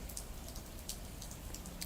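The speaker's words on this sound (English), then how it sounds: "the rain ambiance is kind of a little much, I think, maybe. It's still really loud to me" Steady rain ambience with scattered drops pattering on a surface, a soft, even hiss throughout and no voices.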